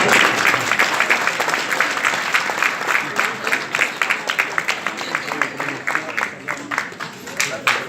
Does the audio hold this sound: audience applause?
yes